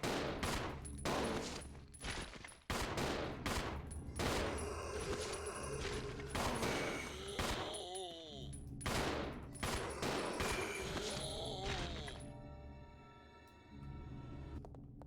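Rapid gunfire from shooting zombies in the Resident Evil 0 video game, with a dense run of sharp shots and bursts over game music and effects, before quieter ambience at the end.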